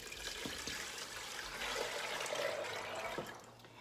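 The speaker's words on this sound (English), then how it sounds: "you're gonna add your 10 cups of water once again" Ten cups of water pour into a pot of rinsed dry beans, a steady, close splashing stream that runs for a few seconds with no one talking.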